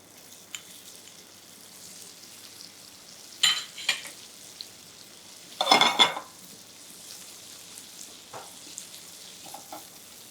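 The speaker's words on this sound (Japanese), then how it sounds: "では火を入れます。 まずベーコンを入れます。" Thin-sliced bacon going into a hot pan as cooking starts. It gives a soft, steady sizzle with a few louder bursts of spitting, and there is no talking.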